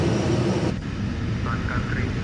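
A PMDG 737-800 jet taxis in a flight simulator as a steady, loud engine roar and hum, with a voice speaking over it.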